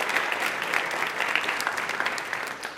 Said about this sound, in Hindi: लेकिन अपने लिए एक बार तालियां।